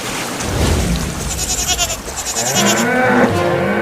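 A goat bleats loudly and close in wavering, quavering calls over a background of rushing water and rain during a flood scene.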